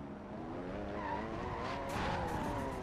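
A Lamborghini in the racing game Forza Horizon 4 drives with its engine droning steadily while the tyres skid and squeal throughout, rising slightly toward the end, with no talk.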